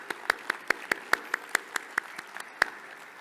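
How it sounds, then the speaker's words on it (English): A small audience at a luncheon claps in a sparse, fairly even run of individual claps, as if only a handful of hands, fading slightly toward the end. "Let's give them all a round of applause for their support and generosity."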